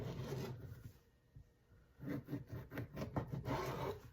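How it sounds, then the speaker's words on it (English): A serrated knife sawing through charcuterie pinwheels, close rasping strokes in a quick back-and-forth rhythm after a brief quiet pause, fairly soft. "we are going to cut these into pinwheels about 1 inch"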